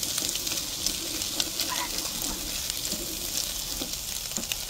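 Fried rice frying in hot oil in a pan, a bright continuous sizzle with occasional soft scraping and stirring knocks, close by and steady throughout.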